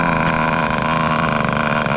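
A Kyosho V-One RR vintage nitro RC touring car engine idles with a steady, buzzy, high-pitched drone. It is close and loud and runs without a break.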